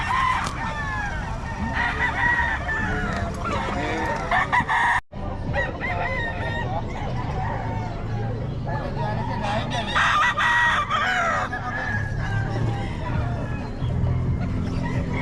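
Several roosters crow loudly and cluck at a cockfighting seller's stall. The crows overlap near and far in a dense, continuous chorus, briefly cut off near the middle.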